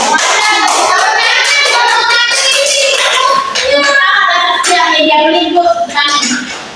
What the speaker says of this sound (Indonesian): Tepuk tangan dulu bagi ini